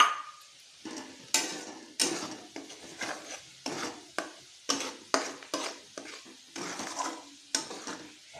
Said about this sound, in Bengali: মশলাটাকে আগে একটু কষিয়ে নেব।